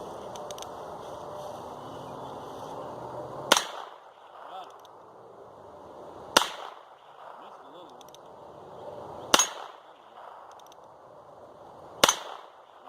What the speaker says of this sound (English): I'm gonna take a couple of shots at this that big orange target, see if I can even hit it